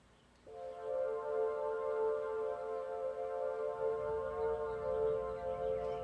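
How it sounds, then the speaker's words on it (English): Gooey, detuned synth pad with a warbly, worn-out tape-machine character, fading in after a brief quiet start and then holding a steady, wavering chord throughout, with no voices. "Verse 2, we bring in this really cool kind of gooey, detuned pad"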